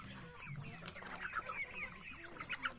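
Young chickens about three months old clucking and squabbling at a brooder pen on a rural farm, a busy, continuous chorus of overlapping clucks and chirps close by with no talk.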